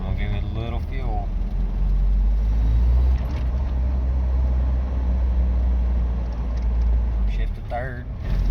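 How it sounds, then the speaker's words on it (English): A Toyota truck's 22RE engine given a little fuel while coasting downhill in second gear, a deep, steady rumble swelling then easing, heard from inside the cab with someone talking over it at the start and end. "I'm in second gear and I'm just coasting down a hill. I'm gonna give it a little fuel."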